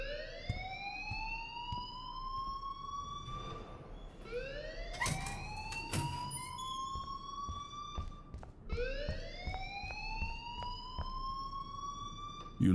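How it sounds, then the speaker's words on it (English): A rising, whooping electronic alarm from the video game Life Is Strange wails three times in repeated upward sweeps, loud and steady, with brief clattering noises between the cycles. "please turn off that alarm since that's your job"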